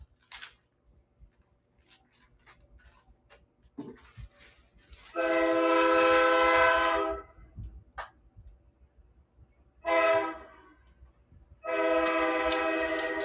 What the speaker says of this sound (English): You all hear my train in the background?